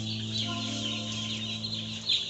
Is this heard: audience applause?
no